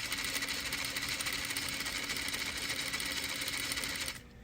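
A sewing machine stitches forward through two layers of fabric in a steady, fast, continuous whir at close range, with no talking, then stops abruptly just before the end.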